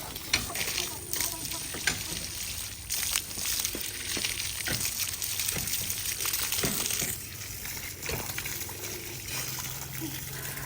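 Water is poured onto a garden in a Pakistani village, a steady splashing and trickling with irregular louder spatters, close by.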